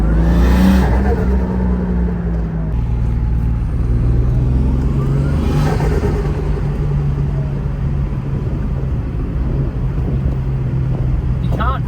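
Turbocharged Holden VL with a dump pipe driving, a loud steady engine drone and road rumble heard from inside, with a couple of swelling whooshes along the way.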